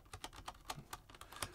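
Mechanical buttons on a Blackmagic ATEM Mini Extreme ISO G2 video switcher are pressed in a quick, uneven run of faint clicks, close by with no talk.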